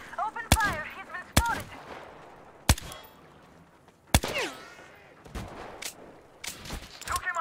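Gunfire in the shooter game Metro: Exodus during a boat assault: several sharp, loud single shots spaced irregularly, with quieter combat noise and rattling between them.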